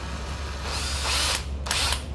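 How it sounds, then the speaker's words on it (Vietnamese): A cordless Japanese-market drill with two slim batteries runs steadily in plain drilling mode at close range, with a brief pitch change near the end and no talking. "đây là khoan thường"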